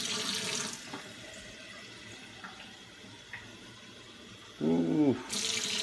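Water runs from a kitchen or bathroom sink tap, a steady broadband hiss that starts and stops in short bursts, with a brief voiced sound near the end.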